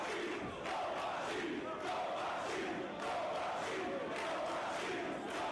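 A Japanese wrestling crowd watching Samoa Joe versus Kenta Kobashi roars and cheers in loud, surging waves that swell and dip repeatedly across the arena, with shouts rising above the din.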